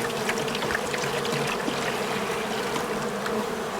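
A dense swarm of aggressive honeybees buzzes around an open hive during an inspection, a loud, steady, close hum with individual bees whining past.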